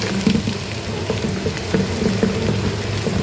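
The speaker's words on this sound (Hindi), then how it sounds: "अब इसमें हम पानी ऐड करेंगे" Water pours into a gram flour and buttermilk batter for kari pakora, a steady close splashing trickle with faint bubbling patter, heard alone without speech.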